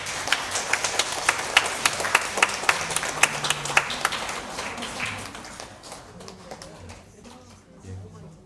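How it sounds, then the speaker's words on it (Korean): A church congregation at a Sunday worship service claps in welcome, a loud, brisk patter of many hands that fades out toward the end as low voices and room noise remain. "잠시 일어서 주시면 박수로 또 환영하고 축하하는 시간 갖겠습니다"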